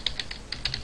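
Code being typed on a computer keyboard: a quick run of about eight crisp, close key clicks in under a second, no voices.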